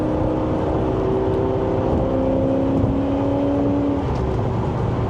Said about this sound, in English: Supercharged V8.